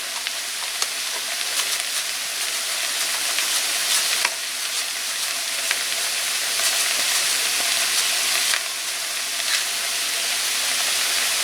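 Onions sweating in a pan on the stove for cabbage rolls, about to get caraway seeds: a steady, even sizzle and hiss that holds at one level the whole time, with faint clinks over it and no talking.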